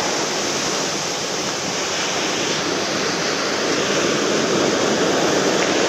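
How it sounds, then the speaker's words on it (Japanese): Ocean surf breaks on a beach during shore lure fishing for flatfish, a loud, continuous wash of crashing and rushing water close by, with no voices over it. "ちょっと大きい波来るとやばいね。"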